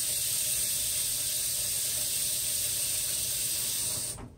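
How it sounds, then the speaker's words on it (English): A pan being washed under running water from a sink tap, giving a steady, loud hiss that holds evenly for about four seconds and then cuts off abruptly. "I came over there to wash the pan."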